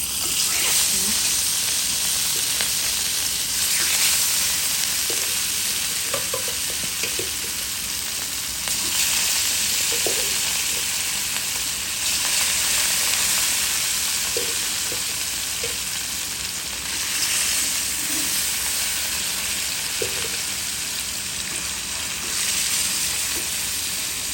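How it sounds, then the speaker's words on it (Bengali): Fish, rohu for a spiced curry, frying in hot oil in a home kitchen, a steady broadband sizzle running throughout with occasional stirring clinks and brief bits of speech over it. "দিয়ে দিলাম তেল মাছ ভাজার জন্য"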